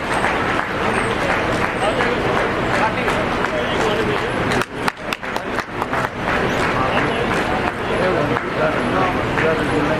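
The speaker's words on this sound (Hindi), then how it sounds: "हाथ को कष्ट दीजिए, बहुत अच्छे से ताली बजाइए" Audience applause at the Purvanchal Ratna award ceremony for journalists in Gorakhpur, a sustained wash of clapping with crowd murmur and a voice over it, briefly thinning in the middle before swelling again.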